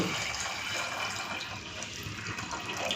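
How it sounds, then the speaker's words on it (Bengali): Water poured from a vessel into a pot of whole potatoes for ghugni, a loud continuous splashing gush lasting throughout, close and alone. "এখন দিয়ে দিচ্ছি পরিমাণ মতো জল"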